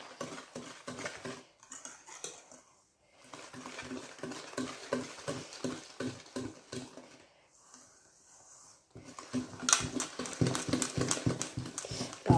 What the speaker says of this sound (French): Et c'est reparti pour un tour de fouet.